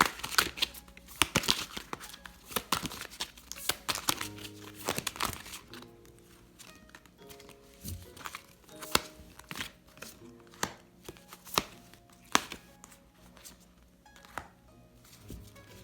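Cards drawn from a fairy oracle deck, giving a sequence of soft, close, irregular crinkles, flicks and taps of card stock being shuffled and set down.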